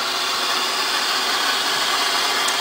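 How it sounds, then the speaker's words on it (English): A supercharged 2.8-liter car engine runs steadily with a dense, even roar and no change in pitch, loud and close throughout, with no voices. "It's a beast of an engine."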